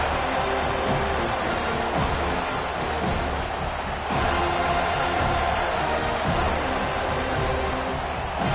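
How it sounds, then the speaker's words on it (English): Stadium crowd at a football game roaring in a dense, sustained wash of cheering and noise that swells slightly midway, with a commentator's voice faintly beneath. "this crowd trying to help keep them there"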